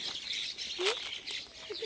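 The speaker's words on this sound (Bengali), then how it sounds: "মা এই পাশ দিয়ে পাখি বাচ্চা আছে।" Soft, high chirps from baby birds beside a fish farm at sunset, a few short calls scattered over a steady outdoor hiss, one rising chirp standing out clearly midway.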